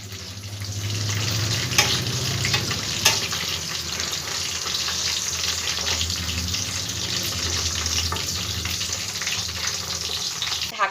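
Pointed gourd (potol) fries in a pan with a continuous moderate sizzle and crackle, occasional clinks from a utensil, steady and unbroken with no talking.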